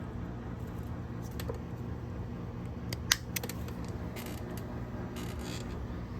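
Scissors snip a cutting from a large aromatic herb plant, a few quiet clicks and one sharp cut against a steady low background hum.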